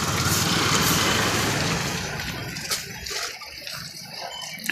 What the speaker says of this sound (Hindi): और देख लो वही पोल गाड़े वाला हो ट्रैक्टर से।